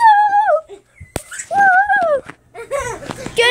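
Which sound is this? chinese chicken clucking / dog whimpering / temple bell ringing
dog whimpering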